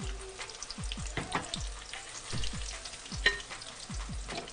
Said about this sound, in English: Sweet potato dropping in there.